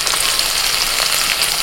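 Thinly sliced onion and capsicum sizzle steadily in a hot pan, a dense, continuous crackling hiss that stays loud and even throughout with no talking.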